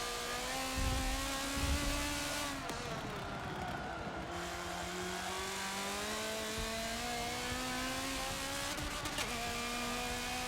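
Aston Martin GT race car engine in Forza Motorsport 7, a steady high-pitched whine holding a sustained tone with slow pitch shifts, briefly dipping midway, alone without talk.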